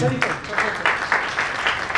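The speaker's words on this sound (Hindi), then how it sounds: "can we have a small claps for yourself only?" An audience claps in short, irregular bursts at a Young Stars Cricket League auction event, a modest, close scattering of applause with voices murmuring underneath.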